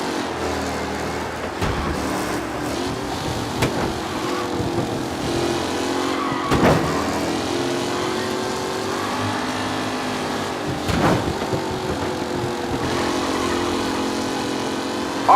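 Race car engines roar steadily in the video game Mafia Definitive Edition, a dense pack of cars running close together with sustained loud whine and a few sharp bursts as they pass.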